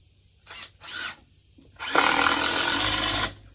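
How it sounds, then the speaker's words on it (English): A power drill drives a screw into clamped wood: two short trigger bursts, then a longer steady whirring drive of about a second and a half, close and fairly loud. "Clamp down. And let's screw it in."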